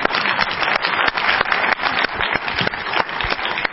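Loud, dense applause from an audience at a film festival opening ceremony in Normandy, continuous and close throughout.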